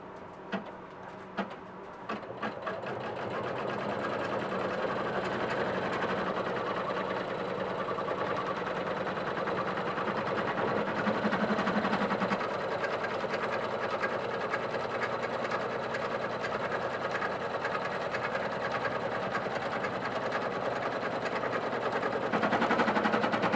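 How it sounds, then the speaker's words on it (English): A sewing machine runs steadily and close by for over twenty seconds, stitching the last lining piece into a front-zip clutch bag, after a brief start and with no speech. "let's sew our last lining piece on"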